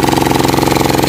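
A deep-well pump engine on a farm idles with a loud, close, rapid even chug. The pulsing stays steady and unbroken throughout, with no talking over it.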